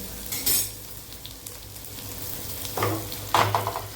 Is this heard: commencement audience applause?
no